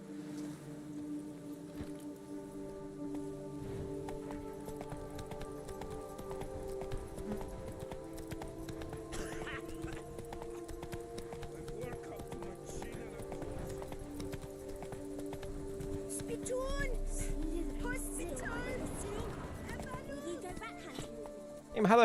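Roach, the horse in The Witcher 3 video game, clip-clops along in a steady rhythmic hoofbeat beneath game music and ambient sound, with a swell toward the end and a sudden loud burst at the close.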